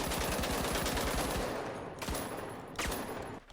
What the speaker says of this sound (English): This gun is just your average LMG.